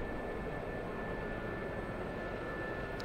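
An Sa 342M Gazelle helicopter in DCS World gives off a constant, even turbine and rotor drone with a thin high whine running through it, steady and uninterrupted, with no speech.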